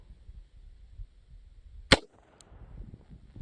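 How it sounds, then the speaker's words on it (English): A single sharp gunshot from a Glock 48 9mm pistol at a shooting range, one loud crack standing out above a quiet rumbling background. "we shoot the gun named 4/8, the Glock"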